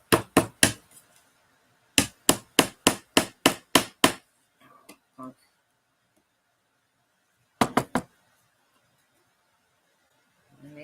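Hammer blows land in quick bursts: a fast triple, then a steady run of about eight strikes, a couple of faint taps, and another short triple, each crack sharp and close against a quiet room.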